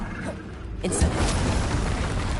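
A fire spell cast in Hogwarts Legacy bursts out as a low, booming whoosh that swells after about a second and roars on steadily, with a voice shouting over it.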